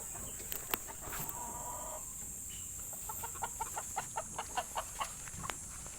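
Hens and a young rooster on a backyard farm cluck close by, a series of short, evenly spaced clucks in a quick run over soft background noise, with a few scattered calls earlier.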